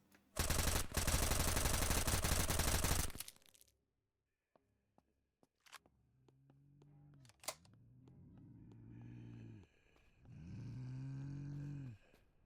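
Rapid automatic gunfire in the survival shooter SurrounDead rattles loudly for about three seconds, then cuts off, followed by a few sharp single clicks and later two swelling, droning tonal sounds.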